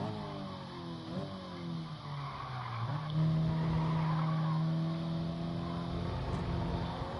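Race car tires skid and squeal in GT Sport as a car spins out during an online race, a long rising-and-falling engine whine with a loud sustained screech in the middle, fading as it settles; no talking.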